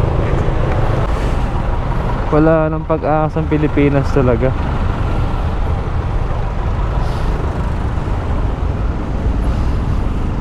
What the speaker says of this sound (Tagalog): Grabe traffic talaga dito.